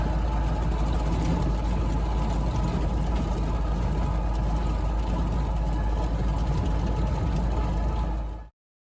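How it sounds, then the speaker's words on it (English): A Ford Model A drives along a gravel road, its engine a steady, loud, low rumble mixed with crunchy road noise that holds throughout, then stops abruptly. "There's miles of gravel road, but this Model A eats it up."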